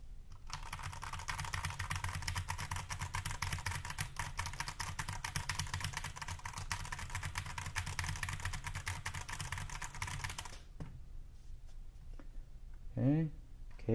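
Rapid, steady typing on an iLovBee i61 budget mechanical keyboard, a dense run of clacky keystrokes repeating the same keys close up for about ten seconds before stopping, followed by faint sounds and a brief voice.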